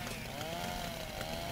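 A chainsaw in Little Inferno whines steadily and harshly with a slightly wavering pitch, a dense buzzing roar filling the short stretch without any talk.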